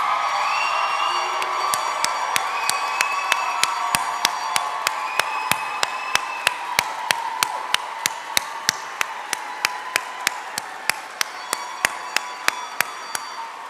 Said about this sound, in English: please stand and give this class a round of applause